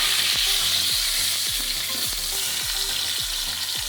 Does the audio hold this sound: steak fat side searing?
yes